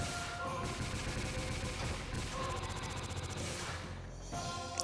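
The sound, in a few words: missile launchers firing missiles in the Dark Cloud 2 video game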